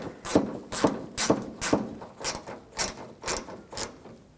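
Screws being snugged down on the HID ballast control module of a 2007-2013 BMW 328i, giving a steady series of about ten short ratcheting clicks at an even pace, close and fairly quiet.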